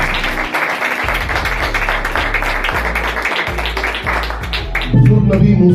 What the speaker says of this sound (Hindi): आए जोरदार तालियां खुदा के लिए